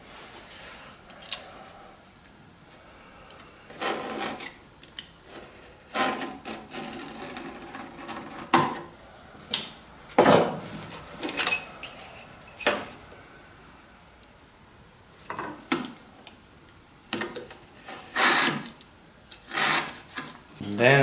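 Hand-sawing wood during a wooden boat build, a series of rasping strokes that come in short bursts separated by quiet pauses, close and fairly clear.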